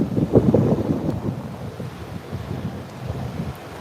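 Ocean waves washing up on Fort Myers Beach, a steady close wash of surf with wind buffeting the microphone, louder at first and then settling into a continuous churning roar.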